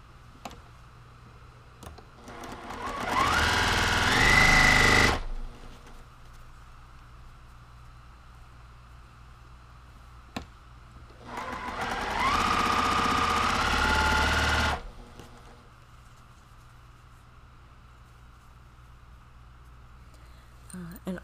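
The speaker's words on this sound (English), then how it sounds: "I'm gonna chain piece this." A sewing machine chain piecing quilt blocks runs in two loud, steady whirring bursts of a few seconds each, separated by quiet pauses with faint clicks and handling.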